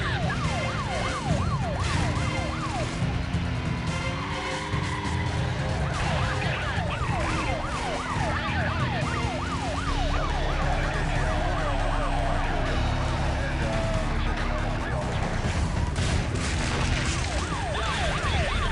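Wailing police sirens from heavy police cars in Need for Speed: Most Wanted rise and fall repeatedly over a steady engine roar and game-like background noise, loud and continuous throughout.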